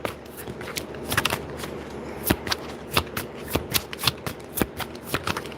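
Tarot cards are shuffled and drawn in a steady run of papery riffles and sharp snaps, close and fairly loud, with no talking.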